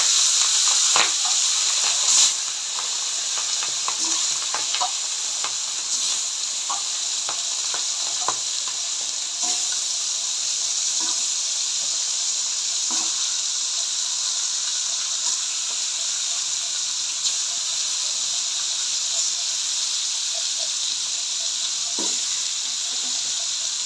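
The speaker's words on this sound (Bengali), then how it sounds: "আমি এখন গরম তেলে ভেজে নেব।" Pieces of food sizzle in hot oil as muri ghonto is prepared in a home kitchen, a continuous bright frying hiss with scattered pops and crackles throughout, steady and close.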